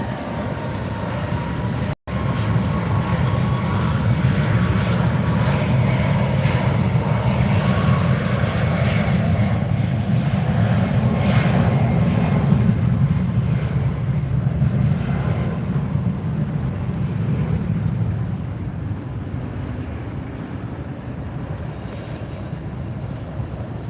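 A DC-3 propeller airliner takes off at Fort Lauderdale, its piston engines producing a loud, sustained, rumbling drone that holds steady for the whole stretch, with wind buffeting and one sharp click near the start.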